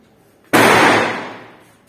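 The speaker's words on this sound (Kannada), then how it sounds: "ಪಟಾಕಿ ಡಮ್ ಡಮ್ ಅಂತಾವು" A single sharp firecracker burst during a Ganesh festival in Belagavi, close and loud, its crackling tail fading over about a second and a half.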